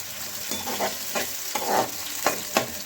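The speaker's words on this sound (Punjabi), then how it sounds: "ਹੁਣ ਅਸੀਂ ਇਹਨੂੰ ਥੋੜਾ ਜਿਹਾ ਭੁੰਨ ਲਾਂਗੇ ਚੰਗੀ ਤਰ੍ਹਾਂ ਪਿਆਜ਼ ਲਾਲ ਕਰ ਲਾਂਗੇ" Onions and chopped green chillies being fried in a pan for a potato and halon bhurji, a soft sizzle broken by a few distinct scraping stirs roughly every half second, no talking.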